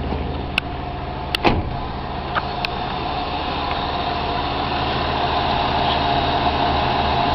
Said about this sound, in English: So power windows work.